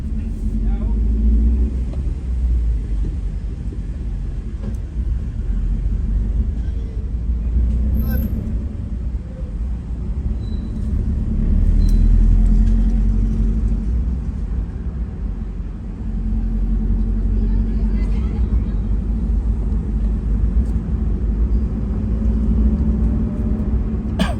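Jammed night-time traffic on Jalan Sulawesi in Makassar on a Saturday night: a steady low rumble of idling and creeping engines fills the street, with faint distant vehicle sounds above it.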